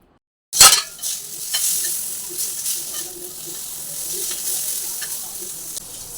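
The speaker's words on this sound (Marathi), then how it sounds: "तव्यावर आता छान मिरच्या बघा मी तळून घेते" Green chillies fry on a hot griddle with a sudden loud sizzle as they hit the surface, settling into a steady crackling hiss with faint stirring clinks.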